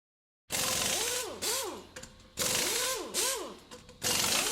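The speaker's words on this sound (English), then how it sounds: "return the retaining bracket and secure into place using the 10mm socket" A 10mm socket on a ratchet wrench tightens the battery retaining bracket of a Chevy Equinox. It gives three close, crisp bursts of rapid clicking with short pauses between them.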